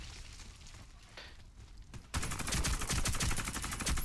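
Rapid automatic gunfire in the online shooter Warface starts abruptly halfway through, after a quieter stretch of low game ambience, with dense, loud, continuous bursts.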